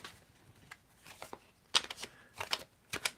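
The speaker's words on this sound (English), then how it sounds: "I will just keep shuffling here until you tell me to stop shuffling." Tarot cards being shuffled by hand, soft riffling bursts that grow louder and crisper in several quick passes, close and quiet otherwise.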